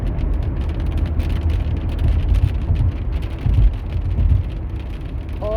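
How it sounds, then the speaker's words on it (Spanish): Heavy storm rain, turning to hail, pelts a car during a thunderstorm in Dallas, a dense steady roar of drops drumming on the roof and glass, with the low rumble of the moving vehicle underneath and no talking. "aquí está bien fuerte la lluvia"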